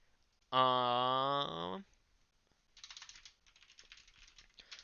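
Computer keyboard typing while writing C# enemy code for a dungeon crawler game: a steady flurry of close, fairly soft key clicks follows a brief sustained tone.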